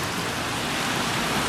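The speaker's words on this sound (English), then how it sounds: "Such a beautiful rain coming down with such a downpour." Heavy rain downpour during a massive rainstorm in Brandon, Manitoba, a dense, steady hiss of water pouring down, loud and continuous with no other sounds.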